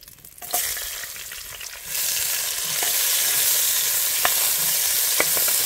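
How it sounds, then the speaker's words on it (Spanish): Chopped onion dropped into a hot pan with oil, a loud steady sizzle starting abruptly and holding through, with occasional stirring clicks and pops over the frying hiss in a home kitchen. "Ahora coloco por aquí la cebolla."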